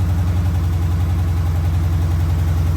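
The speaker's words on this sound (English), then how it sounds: "it sounds like an exhaust leak" A Dodge 6.4L engine in a Scat Pack idles steadily with a loud, even rumble, and an exhaust leak adds a faint tick throughout the continuous running.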